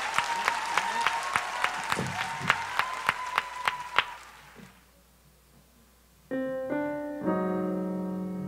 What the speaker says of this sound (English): You can applaud. Make some noise.